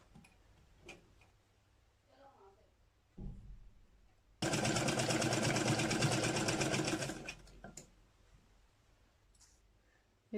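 A sewing machine stitches folded strips of fabric for a baby frock, running in one steady loud burst of rapid needle chatter for about three seconds amid quieter handling noises.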